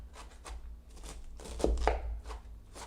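A knife chops food on a chopping board in a test kitchen while gyoza are being made, giving a run of steady close taps with two louder, heavier strikes near the middle.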